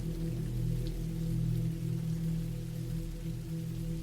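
Steady rain falls in a dense, even wash with a low rumble beneath it, continuous and fairly loud throughout, with no voices.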